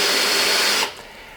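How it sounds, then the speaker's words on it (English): A drill spinning a brush at its lowest speed scrubs car interior carpet, a loud, steady whirring buzz close by that cuts off abruptly near the end. "A drill's going to make your life easier"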